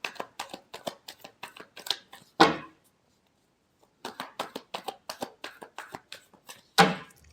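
Tarot cards are shuffled in rapid riffling flicks, two bursts of quick crisp taps each ending in a louder slap as the deck is squared, separated by a short silence, close and clear with no voices.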